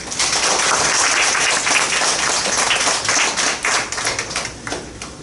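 Warm audience applause in a school lecture hall welcoming a professor, a loud sustained crowd of clapping hands that gradually thins toward the end.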